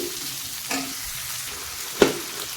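A soft, steady sizzle of ground fresh ginger paste frying in a pan for green poha, with a couple of brief scraping stirs and no talking.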